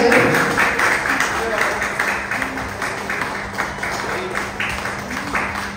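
Loud, sustained applause from an audience at an India Book of Records award ceremony, running steadily throughout beneath a speaking voice.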